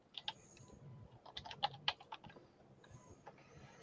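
Several people typing on computer keyboards, with scattered bursts of quick, crisp key clicks that are fairly faint and close, briefly clustering then thinning out.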